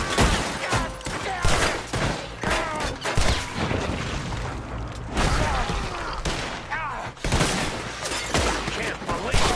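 Gunfire in Red Dead Redemption 2, a dense fusillade of repeated shots and booms that keeps going through the whole stretch, loud and close, with crashes and shouted voices mixed in.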